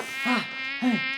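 A bee buzzing in two close passes, each a loud nasal drone rising and fading, with a steady hum in between and no talking.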